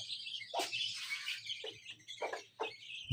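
Pigeons in a village setting give short chirps and tweets in separate bursts, fairly faint and near, over a quiet low hum with no talking.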